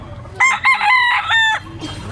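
A young 2-kilo Talisayon stag gives a single loud, nearby crow. It opens with two short clipped notes and then a longer, strained, wavering call, with some quiet background noise before and after.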